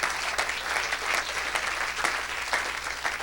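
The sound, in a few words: audience applauding and cheering for Jesus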